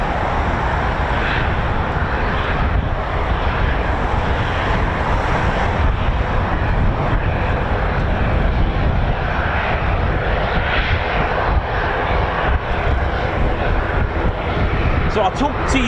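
C-146 aircraft engines running after start-up at an RAF air base, a loud steady broadband roar with wind buffeting the microphone throughout.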